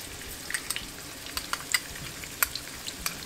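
Chopped onions and mashed garlic fry in a hot pan, giving a steady close sizzle broken by scattered sharp pops and crackles.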